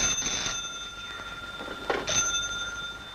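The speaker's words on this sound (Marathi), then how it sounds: "बघा फोन आला." In a Marathi film, a telephone bell rings in two short bursts with a brief gap between them, clear and fairly close in a quiet room.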